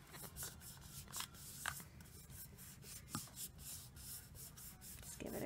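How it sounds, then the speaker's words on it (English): Steady rubbing of vinyl onto a tumbler, a continuous dry scuffing texture with small bursts of stronger strokes, close and fairly quiet with no talking. "make a little crease in the middle and then just flatten it out. And you want to give it a good rub."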